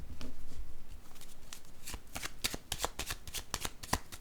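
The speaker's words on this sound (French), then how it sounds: "Je vais déposer une carte sur la prison maintenant." Cards shuffled and handled for a tarot-style card reading, a close riffling flutter followed by a run of crisp snaps and slaps as cards are laid down, no talk.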